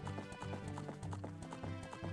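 Horses gallop in Zelda Spaceworld '97 beta, a steady rapid clip-clop of hooves in a rolling rhythm, loud and continuous for the whole stretch.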